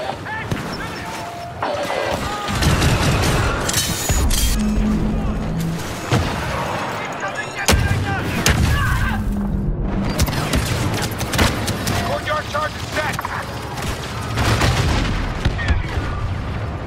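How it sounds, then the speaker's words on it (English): Detonated charges blow apart a turbo laser in Star Wars Battlefront 2 Galactic Assault: loud, dense blasts and booming explosions over continuous battlefield gunfire and chaotic combat noise. "Charges detonated. West turbo laser destroyed."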